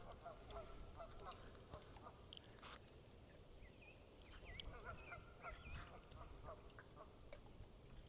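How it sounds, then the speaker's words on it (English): Birds calling outdoors in the Wisconsin Northwoods, with honking and quacking waterfowl-like calls scattered over steady low wind or rumble, faint and distant rather than close. "The birds."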